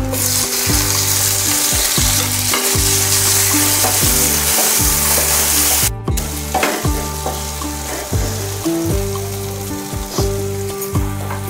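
Tomatoes tipped into a pan of golden crushed garlic for a fenugreek (methi) bhaji, setting off a loud steady sizzle with stirring scrapes and clinks throughout, a sharp burst as they hit at mid-point, then continued frying.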